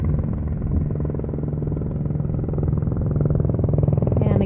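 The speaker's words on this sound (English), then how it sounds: "There's a helicopter up here." Helicopter passing overhead above a coastal trail near Bodega Bay harbor, a steady loud rotor thump and engine drone that holds throughout and swells slightly toward the end.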